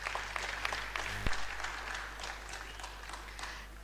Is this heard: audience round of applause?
yes